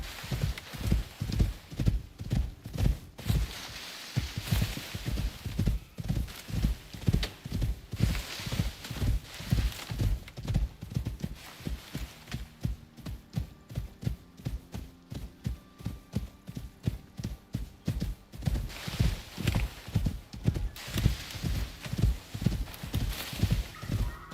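Steady clip-clop of hooves from wild horses in a video game, trotting in a fast, even rhythm for a long stretch, with an occasional horse whinny, close and clear, no talking.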